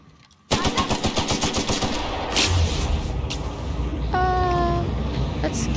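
Rapid automatic gunfire from The Outer Worlds video game, a dense stream of loud repeated shots running nearly continuously for several seconds, with a brief whooshing effect partway through and a rising electronic tone near the end.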